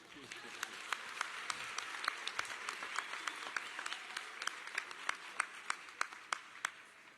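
Graduation audience at the Garrett Morgan School of Engineering and Innovation clapping steadily, a dense wash of applause with sharper individual claps popping out, some voices mixed in.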